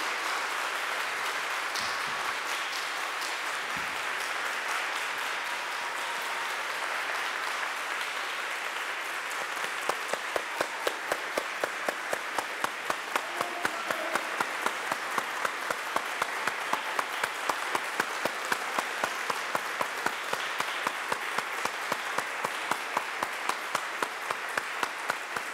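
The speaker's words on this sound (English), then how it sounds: "Let's give her a round of applause." A church congregation at Sunday worship applauding their longtime organist. A long, steady round of crowd clapping settles after about ten seconds into a rhythmic, unison beat that continues to the end.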